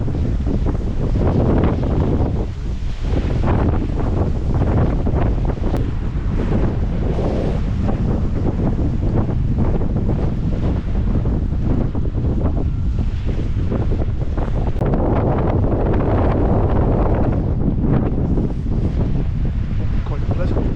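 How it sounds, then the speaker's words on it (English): Strong, gusty coastal wind at Poole buffets the microphone in loud, continuous roaring bursts, with surf noise mixed beneath. "Wind's a bit strong, it's a bit rough today."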